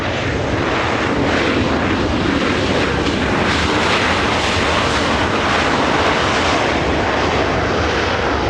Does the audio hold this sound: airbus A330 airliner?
yes